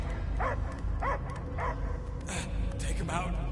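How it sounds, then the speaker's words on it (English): A dog barks repeatedly in the Guardians of the Galaxy video game, several short, evenly spaced barks under game voices talking over them. "I hear only barking."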